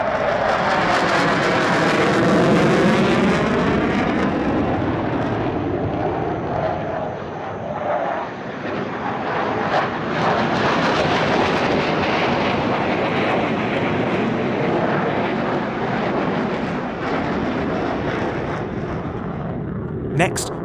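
Three Su-30 fighter jets cross in a three-way opposition pass at a military airshow, a loud sustained jet roar with shifting pitch that swells and fades over about twenty seconds, crowd noise beneath.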